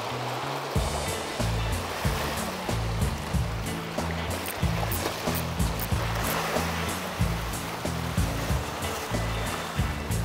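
Sea waves wash steadily against the shore on a calm day of squid-jig fishing, a continuous broad rushing surf with a low rumble underneath and no voices.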